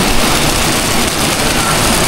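Heavy rain pours down steadily outdoors in Solsona, Ilocos Norte, a dense, constant broadband hiss with no pauses.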